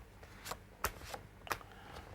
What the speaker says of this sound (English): Let's just take a quick shuffle and see what cards we get up.